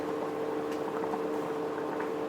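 A pot of mackerel curry with bilimbi and coconut simmers nearby, its soft continuous bubbling and gurgling holding an even level throughout with no one speaking.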